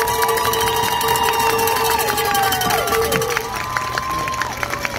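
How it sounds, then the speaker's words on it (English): Crowd cheering and whistling for performers at a high school Class 3A marching band championship awards retreat in Mississippi, a loud sustained outdoor roar with whistles and shouts throughout. "let's give another round of applause for all tonight's performers"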